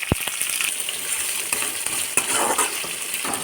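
Onions frying in hot oil with black mustard seeds and curry leaves, a close steady crackling sizzle with sharp pops and a few clinks of a utensil against the pan.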